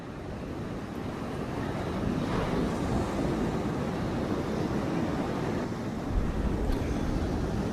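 Waves wash over a rocky beach at Thornwick Bay on the Yorkshire coast, a low continuous surf rumble with gusts of wind on the microphone, swelling slightly midway and near the end, with no speech.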